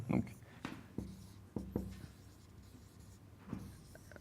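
Chalk or a marker writing on a board makes a series of short, scratchy strokes in separate bursts, fairly quiet and close.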